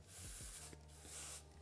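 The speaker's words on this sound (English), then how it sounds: "And now I'm going to actually take some spray it on my" Makeup setting spray pumped from a bottle onto a small makeup brush, two short close hissing bursts, each followed by quiet handling noises, with no speech.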